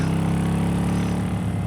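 Classic custom-built motorcycle engine started with its starter button, running steadily and loud from start to finish with a deep, even mechanical rumble and no voices.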